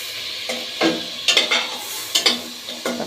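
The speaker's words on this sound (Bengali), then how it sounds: "ভালো করে একটু কষাই চিংড়ি মাছটা।" Prawns cooked down in hot oil with coriander powder, sizzling steadily while a spoon scrapes and stirs in several sharp bursts, close and with no one speaking.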